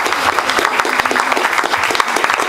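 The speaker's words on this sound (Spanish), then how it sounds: "¡Bravo! Un aplauso" A crowd applauds steadily at a Paris concert of Andean music, a dense, loud patter of many hands clapping without pause.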